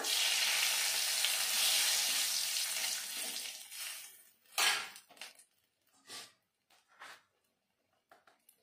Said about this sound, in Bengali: আমি ফোড়নে দিয়ে দেব একটা শুকনো লঙ্কা, একটা তেজপাতা,